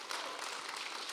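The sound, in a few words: audience clapping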